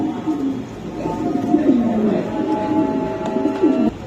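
Beauty pigeons coo nearby in a pen, several rising and falling throaty calls overlapping in a steady chorus.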